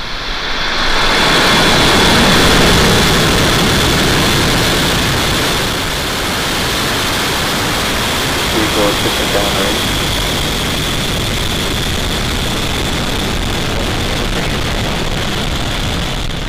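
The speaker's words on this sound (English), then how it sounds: "Liftoff." Starlink rocket liftoff: a loud, sustained broadband engine roar that swells in the first seconds and then holds steady and powerful throughout, with no other sounds on top.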